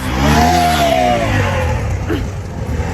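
A motorbike carrying three riders passes close by during a wet Holi outing. Its engine revs loudly with a rising then falling whine and fades as it moves off.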